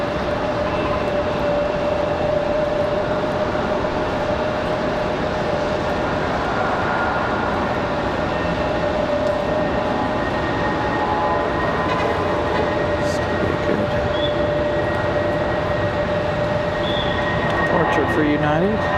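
A United airliner departs from RDU airport in Raleigh-Durham on a snowy day, its steady, loud jet roar filling the whole stretch with a sustained whine. A voice speaks faintly underneath.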